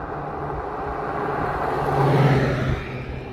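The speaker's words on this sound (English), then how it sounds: "I can hear crows circling above, cars racing by" A car passes on a nearby road, a steady whirring engine rumble that swells to a peak near the middle and then fades, heard alone with no voices.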